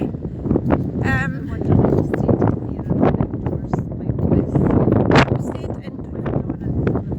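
Wind buffets the microphone on a lambing farm on Arran, a steady broadband roar with gusty swells throughout, and a voice briefly cuts through near the start.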